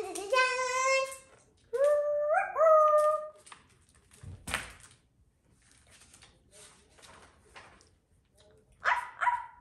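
A voice imitates a small puppy's barking from a children's picture book, giving a few short, high, yappy barks in bursts, close and fairly loud, with quieter breathy sounds between.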